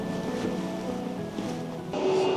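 Wind and rain roar steadily from a museum video artwork that pairs classical Korean painting with modern video technology, a continuous close wash of gusting noise that swells slightly toward the end.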